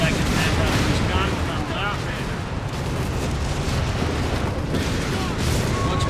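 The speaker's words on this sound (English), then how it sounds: "More explosions in there." Battle noise from Company of Heroes 3 rolls on without a break, dense booms of explosions and artillery fire with a rumbling, crackling backdrop, continuous and loud, while a voice talks over it.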